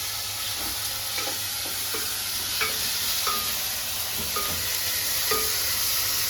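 Mashed tomatoes for rasam sauté in a hot pan with a soft, even sizzle and occasional light taps of a spoon stirring, fairly quiet and without speech.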